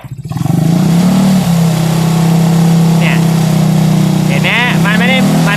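A Benelli TNT motorcycle engine, which has a battery charging fault, revs hard and holds at a high, steady drone, loud and close, with a few brief voices briefly heard near the end.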